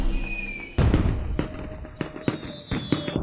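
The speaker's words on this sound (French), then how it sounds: "Qui peut bien tirer des feux d'artifice dans la capitale?" Fireworks burst over the capital in a series of sharp cracking pops, about half a dozen spaced explosions with crackling tails and a faint whistle, fairly close and loud.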